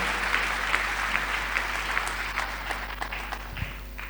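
Church congregation applauding during a sermon, dense steady clapping from a crowd that tapers slightly toward the end, with a low hum underneath.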